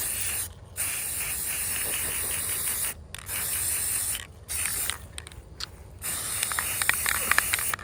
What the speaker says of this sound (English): Okay, got the first side good and sprayed.